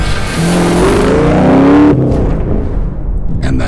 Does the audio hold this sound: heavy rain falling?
no